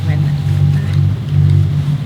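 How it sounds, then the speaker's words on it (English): A sailboat's inboard engine drones at night on a passage between Menorca and Corsica, a loud, steady low hum with vibration that continues without a break. "it's a little hard to do when the engine is on. It's so loud and it vibrates."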